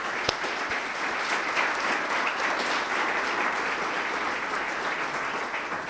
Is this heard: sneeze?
no